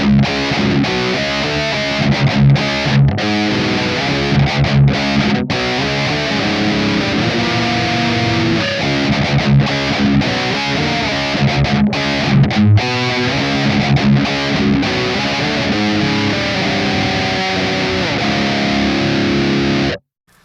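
A heavily distorted electric guitar plays a riff, with fast, continuous chugging and barred chords sounding loud and close for about twenty seconds before stopping abruptly.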